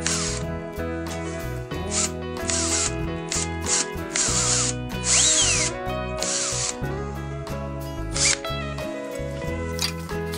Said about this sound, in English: Make a mark so we can drill with a 2mm drill and slow speed.